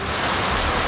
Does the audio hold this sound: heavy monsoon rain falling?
yes